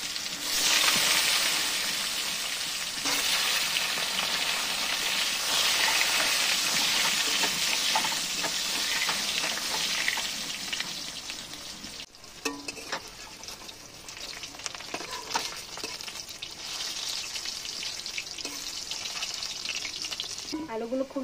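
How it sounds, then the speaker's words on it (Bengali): Potato pieces coated in salt and turmeric frying in mustard oil, a loud, dense sizzle that dips midway and then continues with scattered crackles and occasional stirring knocks. "নুন হলুদ দিয়ে মেখে রাখা আলুগুলো ভালো করে কিন্তু ভেজে নিচ্ছে"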